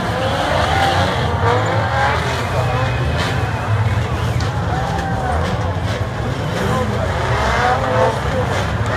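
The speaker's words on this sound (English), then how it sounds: "Green, we are underway here for the start of the 4600 race here." Ultra4 off-road race cars starting a 4600 class race, their engines roaring in a continuous loud mass with passing whines, while an announcer talks over the track noise.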